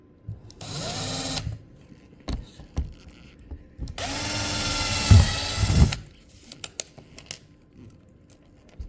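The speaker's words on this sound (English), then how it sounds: "once you get all these screws in, then you'll kind of go around and make sure that all of them are snug" A power drill drives screws into the flange of a MaxxAir roof fan in two loud whirring bursts with winding pitch, separated by clicks, taps and handling knocks.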